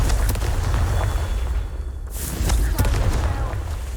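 A Confringo fire spell in Hogwarts Legacy bursting with a deep, rumbling boom, a couple of sharp blasts punctuating heavy low-end noise, with game audio and voices mixed in.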